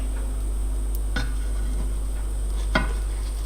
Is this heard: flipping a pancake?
yes